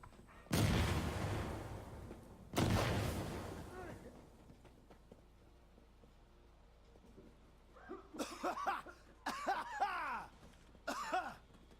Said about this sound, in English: the AI can hear when you cough like that, just like you can hear them